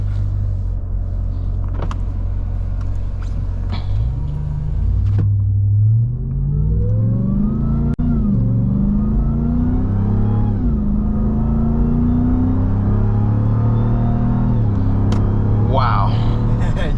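A RAM 1500 TRX pickup truck engine revs and accelerates, its low rumble rising in pitch through several gear shifts, loud and close, with a brief clunk midway.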